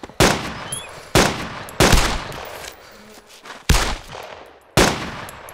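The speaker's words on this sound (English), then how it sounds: "Someone just shot right past my head." Gunfire in the video game DayZ: five sharp, loud shots spaced about a second apart, each followed by a short echoing decay.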